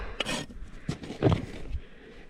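Close, irregular rasp strokes on a horse's hoof as a bevel is filed all the way around the hoof wall during a corrective barefoot trim, with short bursts of scraping and no talking.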